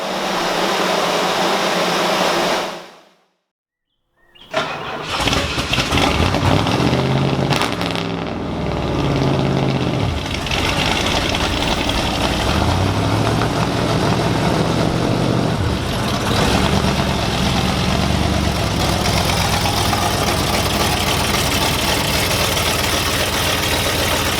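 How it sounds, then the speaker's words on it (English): A 1976 Ford F250 engine idling high after a vacuum leak repair, a loud, steady mid-pitched drone that briefly cuts out near the start before running on continuously at close range. "Our idle seems weirdly high now."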